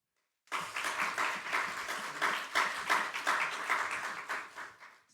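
An audience at a university chapel service bursts into sustained applause after a short silence, many hands clapping steadily and densely from nearby, then tapering off at the end.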